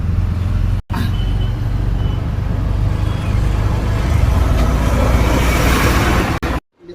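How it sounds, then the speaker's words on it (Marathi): A loaded car fitted with a slipper clutch creeps slowly along in gear, its low engine drone and road rumble loud and close throughout, with brief dropouts and no talk. "आता गाडी बघा स्लो मोशनला चाललेली आहे त्या गिअरवरती चाललेली आहे"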